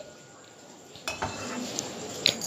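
Steamed potato pieces are lifted out of water and drained in a kitchen, giving soft utensil clinks and metal pot knocks with a light watery sound that starts partway through and stays close and fairly quiet.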